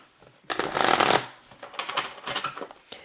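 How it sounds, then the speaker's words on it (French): Oracle cards are shuffled by hand at close range, a loud riffling burst followed by softer, uneven rustling handfuls, with no voice heard. "Alors, premier tirage, donc pour voir un petit peu les énergies de la semaine."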